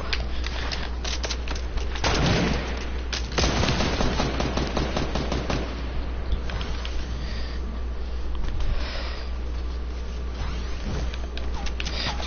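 Fortnite gunfire, including sniper shots, cracks out as loud, close shots and bursts over dense game noise, with distortion throughout.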